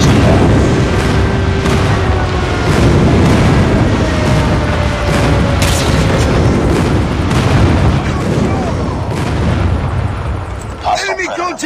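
Airstrike explosions in the Call of Duty video game: a dense, continuous run of booming blasts and rumbling detonations, loud and sustained throughout, with sharper bursts layered on top.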